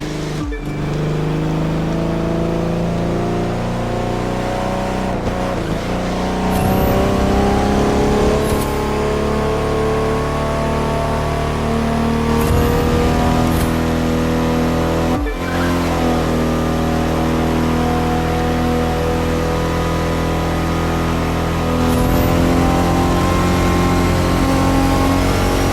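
Koenigsegg Gemera hypercar in the racing game The Crew 2, its engine droning loudly and climbing in pitch through repeated gear shifts across a long continuous run, with no talk.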